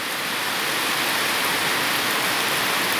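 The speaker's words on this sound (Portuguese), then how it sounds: "Chuva volta ao sertão, né?" Steady, heavy rain hissing down in the sertão of Pernambuco, Brazil, in a dense, even wash of noise with no pauses, close and continuous throughout.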